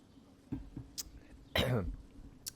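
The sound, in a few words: coughing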